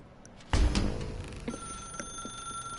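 A telephone rings in the video game The Stanley Parable, a bright, fairly faint electronic ring following a sudden thump, sustained tones repeating at roughly half-second intervals.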